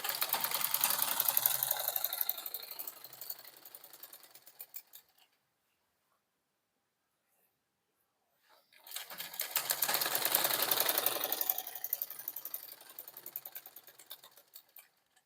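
A sewing machine stitching a seam with a half-inch margin while joining fabric pieces, steady fast whirring runs of about five seconds each, separated by a few seconds of silence, close and alone.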